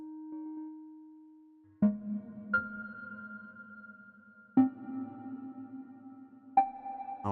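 Sustained synthesized tones in a series of notes, each struck note ringing out with a reverberant tail; clean electronic timbre, no voices.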